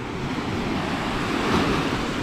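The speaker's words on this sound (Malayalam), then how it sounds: "തിരമാല" Ocean waves surge and break on a hidden beach in Kannur, Kerala, a continuous close roar of surf with a gentle swell in loudness, no voices present.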